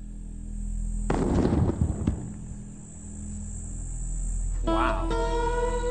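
A TNT charge set off about 70 metres away bursts with a sudden broadband blast, then a rumbling, crackling decay fading to a steady hum, followed by a brief tonal chime.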